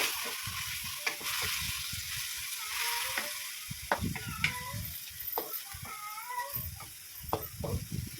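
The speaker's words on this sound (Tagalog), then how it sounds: "gisa-gisa lang hanggang sa maluto siya" Thinly sliced pork sizzles steadily as it is sautéed in a hot pan, with scattered clinks and scraping of a utensil stirring, close up and fairly quiet.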